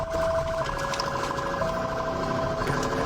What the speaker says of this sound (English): Siren is annoying.